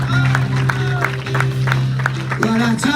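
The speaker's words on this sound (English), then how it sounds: "give a hand clap to the Lord" Church congregation clapping hands in rhythm during a Bible study worship moment, a steady beat of loud claps about every half second over sustained singing and organ-like tones, with voices mixed in.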